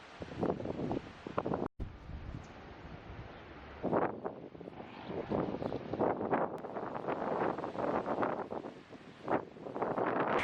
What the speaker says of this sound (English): It's been windy for a while.